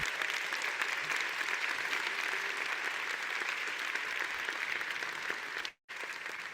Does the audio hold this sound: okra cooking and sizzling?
no